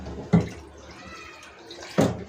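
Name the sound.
water being poured into a curry pot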